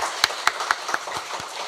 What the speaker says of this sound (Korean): 우리 다시 한 번 더 하나님께 영광의 박수 올려드리겠습니다.